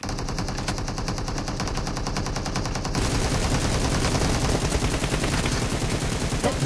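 Rapid automatic gunfire in the shooter game PUBG Mobile during a 3 vs 3 match, dense continuous bursts that grow louder midway, with no clear talk over them.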